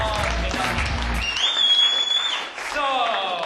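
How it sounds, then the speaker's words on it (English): Audience applause at a live talk-show event, a broad wash of clapping running throughout, mixed with voices, music-like tones and a whistling electronic note partway through. "Yeah, applause."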